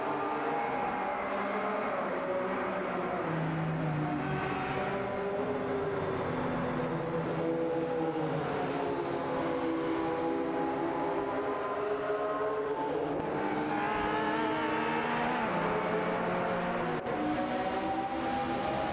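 Engines roar from high-performance racing cars such as a McLaren F1 and a Porsche 911 GT1 in an AI racing video game, a loud, continuous mix of revving and shifting engine pitches with no talk.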